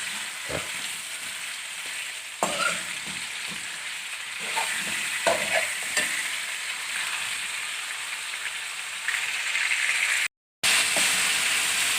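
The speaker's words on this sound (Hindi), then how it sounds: "और नमक डाल के अब हम इसको तेज़ आंच पे फ्राई करेंगे।" Chicken karahi (charsi style) frying on high heat in a wok, a steady loud sizzle and hiss running throughout with intermittent clatter of stirring, no talking.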